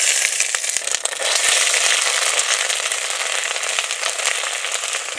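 Ginger paste hits hot oil already tempered with dried red chilli, bay leaf and whole cumin, giving a loud, steady sizzle with bright crackling pops throughout, close and alone.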